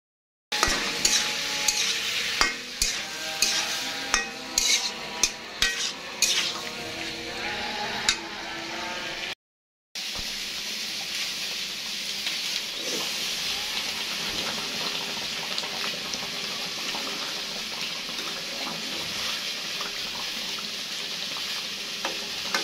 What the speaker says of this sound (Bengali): এদিকে আমি কলিজাগুলো একটু তেল দিয়ে ভেজে নেব।